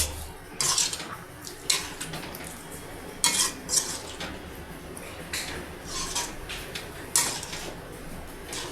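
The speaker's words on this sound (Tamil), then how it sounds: "சேர்த்து நல்லா கிளறி விடுங்க" A spoon stirs broad beans into a dried fish curry in a metal pot, with repeated scraping clinks against the sides. Bursts of clatter come every second or so over a low simmering background.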